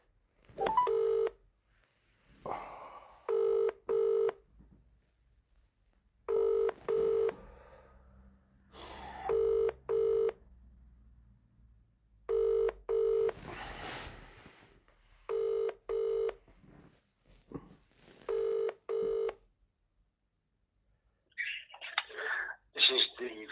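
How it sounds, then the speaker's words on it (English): A telephone call to a council office: repeated bursts of touch-tone dialing beeps, evenly spaced pairs separated by quiet gaps, heard close and clear, with a brief burst of other sound near the end. "Ringing up Graeme Kenna"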